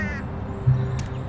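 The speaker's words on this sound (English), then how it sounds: "Is that a crow or a magpie?" A crow or magpie calls in the video game Elroy and the Aliens: one short, harsh caw rises briefly over a steady low background hum.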